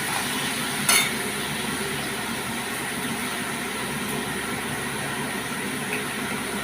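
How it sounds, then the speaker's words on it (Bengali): Chopped onion frying in a pan, a dense continuous sizzle close up with a brief clatter near the start, no voices over it. "এবার পেঁয়াজটাও একটু ভাজতে হবে।"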